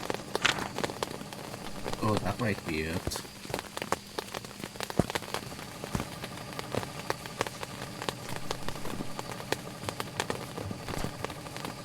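Steady rain patters on surfaces throughout a Phasmophobia game level, a constant hiss with scattered drops and small crackles, while a person speaks briefly over it.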